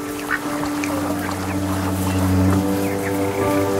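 Ducks in the video game That Dragon, Cancer quack and honk steadily while being fed bread, heard close over a constant low ambient drone with layered tones.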